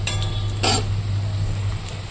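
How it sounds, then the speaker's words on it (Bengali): Potatoes fry in a wok with a close, steady sizzle, broken by a couple of brief scraping bursts from stirring. A low hum runs underneath, with no talk. "এবার আমি দিয়ে দিলাম আলু, আলুটাকে ভেজে নেব।"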